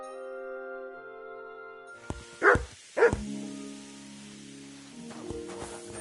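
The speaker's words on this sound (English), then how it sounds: "You silly doggy." A dog in Kingdom Come Deliverance 2 gives two sharp, close barks a half-second apart over a quiet tonal music bed, with faint jingling afterward.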